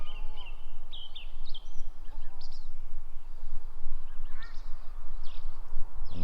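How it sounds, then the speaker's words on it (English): Distant Canada geese honking intermittently over steady wind and outdoor rumble, the calls faint and scattered, near Paihia, New Zealand. "Couple of Canadian geese"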